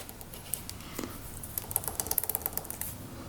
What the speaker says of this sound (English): You can definitely hear that one clicking.